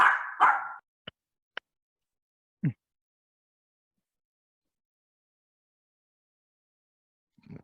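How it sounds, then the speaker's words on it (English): A dog barks twice loudly and close, followed by a few sharp clicks and a short low woof, then long silence with a faint final grunt. "Dog does not like Sharpscape."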